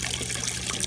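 Water flowing steadily through a koi pond's filtration system, a continuous close trickling and gushing wash with no voices over it.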